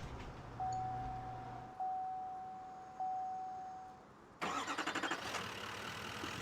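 Pickup truck, a 2500-series, starting up in Farming Simulator 19: a steady tone with repeating clicks, then a sudden burst into a loud, rumbling engine with rhythmic pulses, heard alone.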